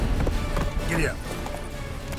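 Roach, a horse in The Witcher 3, gallops with a steady clip-clop of hooves under battle noise and talk, brief and moderately loud.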